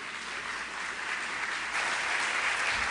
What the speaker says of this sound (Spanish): Recibamos con un fuerte aplauso desde La Habana, Cuba